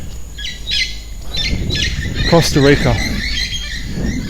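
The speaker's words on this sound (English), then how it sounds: "You can hear some birds in the background." Birds chirp and call repeatedly in the background of a Costa Rica setting, bright short tweets scattered across the clip while a person speaks over them.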